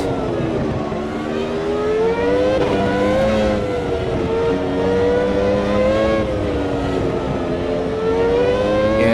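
A Formula One race car engine from a 2002 US Grand Prix video game screams at high revs, its pitch rising and dipping through gear changes as another car passes close alongside, loud and continuous.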